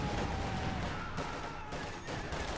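Gunfire in the Company of Heroes 2 strategy game during a 1v1 match, a dense crackle of rifle and machine-gun shots with some heavier blasts, continuous and moderately loud for a couple of seconds.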